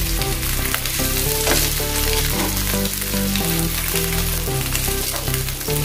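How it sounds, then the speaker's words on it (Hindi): Sago and bhagar patties shallow-fry in a little oil with a loud, continuous sizzle and spatter close up, steady from start to finish, with no voices. "अभी शैलो फ्राई करने का इसको।"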